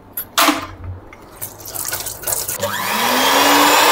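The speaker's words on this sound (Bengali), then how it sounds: "এবার আমি হ্যান্ড মিক্সারে ডিমটাকে ভালো করে ফেটিয়ে নেব।" An electric hand mixer starts beating egg for banana walnut muffins, rising into a steady whirring motor whine after a few knocks and splashy clatters from the bowl.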